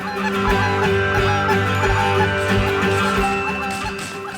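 A large flock of geese honks continuously, in a dense and loud chorus, as the birds come in during a morning waterfowl hunt; no voices are heard.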